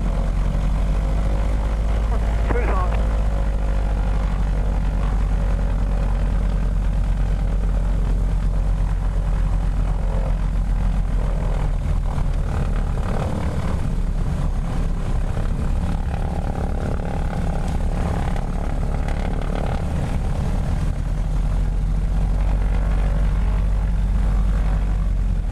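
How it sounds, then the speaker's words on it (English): A Beech 18 twin-engine propeller aircraft roars loud and steady throughout its takeoff run, a constant close drone of engines and propellers with faint speech underneath. "Flight of 6, you're clear for takeoff, runway 27."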